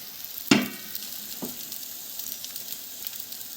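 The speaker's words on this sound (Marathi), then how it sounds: "जास्त तेल नाही लागत त्याला त्याला शॅलो फ्राय करायचं" Mutton keema patties shallow frying in a little oil give a soft, steady sizzle, opened by a sharp clack of a patty or utensil set down and a second fainter knock, with no voices.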